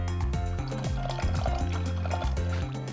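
Orange juice splashes and pours into a BBQ sauce mix for a smoked whole pig, a short liquid pour close by with music playing over it.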